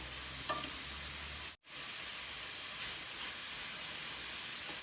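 Meat frying with sweet red and green peppers in a pan, giving a steady close sizzle with occasional stirring. The sizzle stops briefly and then carries on at an even level.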